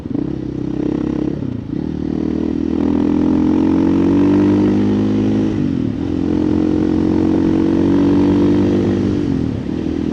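A 2024 KTM EXC-F 500 TPI dirt bike with an FMF muffler rides hard: a loud, close four-stroke engine drone that holds steady, dips briefly twice as the throttle rolls off, then pulls back up to a sustained roar.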